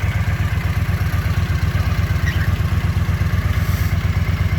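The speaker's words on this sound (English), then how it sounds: "It idles fine." A Honda CX motorcycle engine idles steadily after its carburetors have been balanced, a close, loud, even low throb with a fast regular pulse and no voices.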